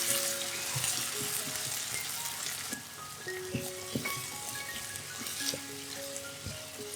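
Tomato vegetarian mince sauce sizzles steadily in a pan while being stir-fried after salt, sugar and water are added, with scattered scraping and clinking of the utensil against the pan.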